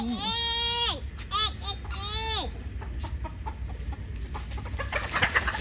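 Chickens at a Buddhist temple grounds give a few loud, drawn-out squawking calls close by in the first couple of seconds, then softer scattered clucks and rustling over outdoor background noise, with people speaking.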